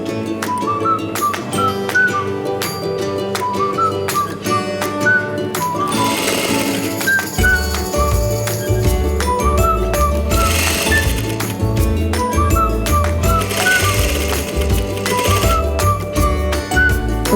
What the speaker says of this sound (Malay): Kita akan menjahit kelepek lurus pada bahagian bawah badan